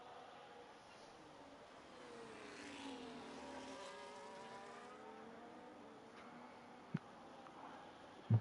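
F1 race cars cross the finish line at Zandvoort in a racing video game, their engines a faint, distant rising-and-falling whine as they pass, followed by a couple of small clicks near the end.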